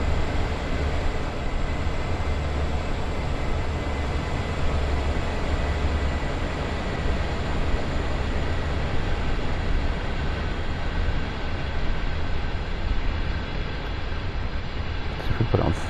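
A train rumbles steadily along Sand Patch Grade in Train Sim World 2, its low, even drone holding at a constant loudness throughout with no breaks.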